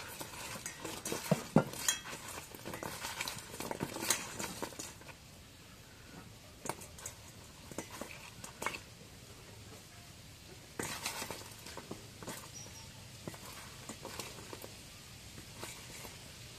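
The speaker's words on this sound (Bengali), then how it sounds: "এখন পটল গুলো মাখায় নিই।" Pointed gourd being mixed by hand with turmeric and chili powder in a bowl, giving scattered scrapes, soft clinks and rustling bursts at an irregular pace, fairly quiet and close.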